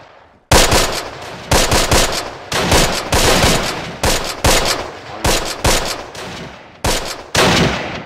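Gunfire in Close Combat, The Longest Day: a series of about ten sharp, loud, close bursts and single shots at irregular intervals, each with a short crackling decay.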